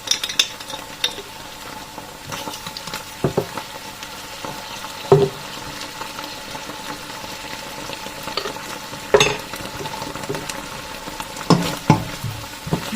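Shrimp paste (alamang) sizzles steadily in a pan, with occasional sharp clinks and scrapes of a utensil stirring against the metal, close and continuous with no talking.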